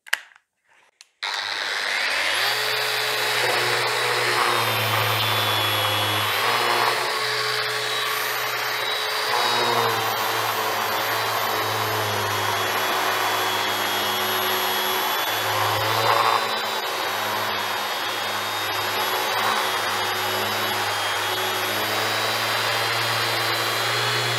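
A Bosch GET 75-150 eccentric sander switches on after a brief pause and runs in forced rotation mode with an abrasive disc, a loud, steady whine and roar that holds for over twenty seconds with slight shifts under load.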